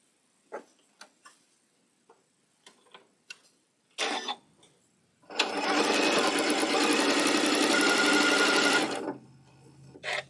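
A sewing machine stitches a quilt block seam in one loud, steady run of rapid mechanical whirring lasting several seconds, preceded by scattered small clicks and taps.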